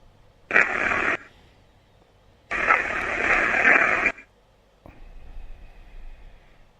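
Ghost box radio sweep chopping distorted white noise into loud broadband bursts, two long hissing blasts separated by quiet, then a fainter, thinner stretch of static.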